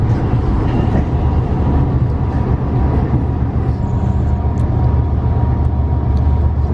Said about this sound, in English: it's a very slow acceleration because it's diesel